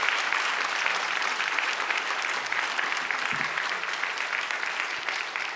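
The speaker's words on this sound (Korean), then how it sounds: "목사님 나오실 때 여러분 뜨거운 박수로 목사님 환영합니다." A church congregation at a Friday Holy Spirit gathering gives warm, sustained applause to welcome the pastor, a dense continuous patter of many hands with no talking over it.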